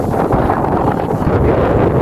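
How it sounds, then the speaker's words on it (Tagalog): Strong wind blasts across the microphone in a constant loud rumbling roar, with no other sounds standing out. "Mahangin po siya talaga."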